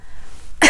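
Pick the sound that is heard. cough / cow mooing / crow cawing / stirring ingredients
cough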